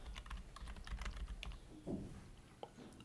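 Quick bursts of typing on a computer keyboard, crisp key clicks in an uneven run, close and fairly quiet, with a brief pause midway.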